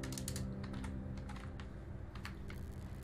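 Quick, close keystrokes on a computer keyboard as a console command is entered in Fallout 4, a steady run of crisp clicks at low level with no talking.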